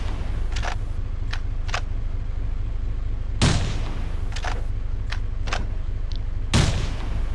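Gunfire in the video game Half-Life, with a run of sharp single shots spread through the scene and two heavier, louder blasts, each shot short and crisp over a steady low background hum.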